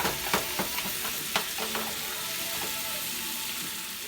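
Ground beef frying in a pan with onion and garlic gives a steady close sizzle throughout, with several scraping stir strokes in the first two seconds while the meat is broken up.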